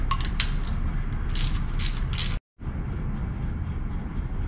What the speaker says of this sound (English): Okay, we got our bolt out of the OCV.